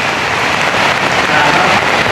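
Steady rain falls in a dense, even hiss that stays fairly loud and constant with no break.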